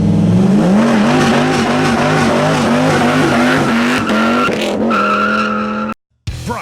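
A 2003-2006 Dodge Viper SRT-10 with a BBK twin 67mm throttle body roars loud and close, its engine note rising and falling through repeated revs, then surging on hard acceleration with screeching tires before cutting off abruptly.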